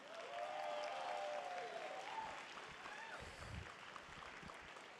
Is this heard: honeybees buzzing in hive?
no